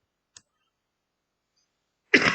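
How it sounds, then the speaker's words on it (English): One person coughs at the end after near silence broken only by a small click, the cough loud and close. "Excuse me, I'm still coughing a little bit."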